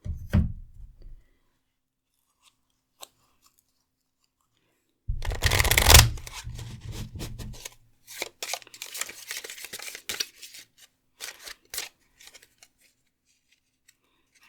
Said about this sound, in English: Actually going to take this part of the deck and shuffle it a little bit more